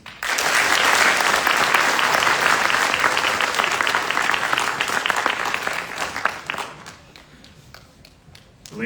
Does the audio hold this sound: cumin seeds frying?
no